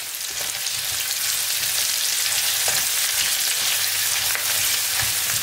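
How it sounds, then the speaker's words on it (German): Tomato paste is stirred into onions browning in a pot for a chicken and vegetable stew, a loud, close, unbroken sizzle with occasional stirring clicks and no voices. "Jetzt kommt Tomatenmark rein. Die müssen wir ein bisschen umrühren."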